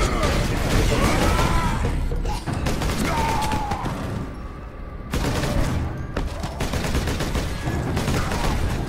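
Rapid continuous gunfire cuts down swarming orks in Warhammer 40,000: Space Marine, dense loud bursts with battle noise and mechanical clatter, a short lull midway, while a person talks over the action.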